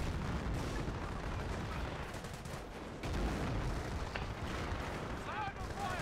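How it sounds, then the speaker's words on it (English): Artillery barrages from the World War II strategy game Company of Heroes in a 2v2 match, a dense continuous roar of distant blasts and gunfire rumbling steadily throughout, with small-arms crackle mixed in. "This is absolutely insane how much artillery is coming down on the field."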